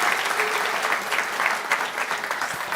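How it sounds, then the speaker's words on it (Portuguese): Congregation in a church applauding during a sermon, a full, continuous round of clapping from many people that stays fairly even, with a faint murmur of voices beneath it. "dê um aplauso forte para o Senhor Jesus"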